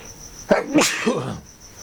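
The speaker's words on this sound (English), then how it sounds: "So I'm about to sneeze." One sneeze with a quick intake and a sharp burst, alone against a faint high insect-like whine in the background.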